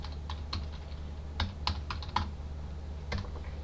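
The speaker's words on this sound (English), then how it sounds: "just type in random stuff." Keys on a computer keyboard tapped at an irregular pace, a handful of close, crisp clicks spaced over a few seconds against a low background hum.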